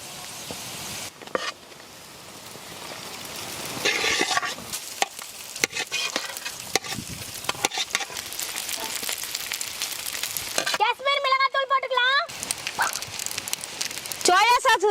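A vegetable mix being stir-fried with macaroni pasta in a pan: repeated scraping stirring strokes over a steady sizzle, with a brief whistling tone near the end.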